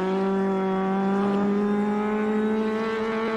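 Engine of a 1970 Alfa Romeo GTAM in the Assetto Corsa racing simulator, a steady buzzing drone with strong harmonics holding a near-constant pitch that creeps slightly upward, loud and close with no talking.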